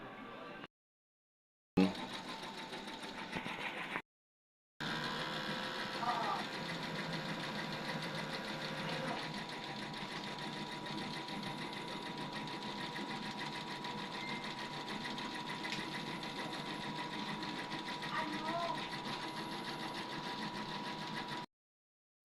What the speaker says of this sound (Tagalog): Ito ang aming machine na XP600. Aming printer head.